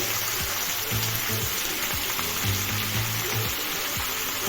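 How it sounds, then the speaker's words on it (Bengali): Onion and tomato frying in oil in a home kitchen, a dense steady sizzle throughout with low rhythmic knocks from stirring, no voices. "এরপর সম্পূর্ণ পেঁয়াজটা দিয়ে দিচ্ছি। একটা কেটে রাখা টমেটো দিচ্ছি।"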